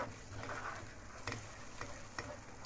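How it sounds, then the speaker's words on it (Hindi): Green masala for fish frying with curry leaves before yogurt goes in, a soft close sizzle broken by a few light stirring scrapes and taps, no speech. "हमारा मसाला बहुत अच्छी तरीके से भून रहा है ये।"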